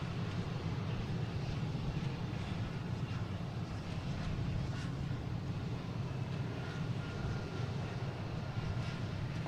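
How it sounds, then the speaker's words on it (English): Air Canada Embraer E175 jet arriving at Boston Logan, a continuous low roar of engine noise with a distant, steady quality and some wind buffeting, no voices present. "Right next coming in is Air Canada coming in from Montreal, E175"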